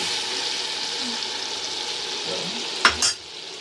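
Rajwadi dhokli curry simmering in buttermilk gravy gives a steady, close sizzle and bubbling. A short scrape of a spoon stirring the pot near the end breaks through, and then the sound drops off.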